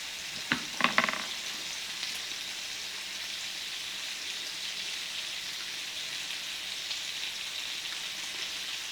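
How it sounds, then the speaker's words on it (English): Potatoes and hot dog wieners fry in a skillet, a few clattering stirs near the start giving way to a soft, even sizzle that carries on steadily without speech. "I'm just stirring them up a little bit more"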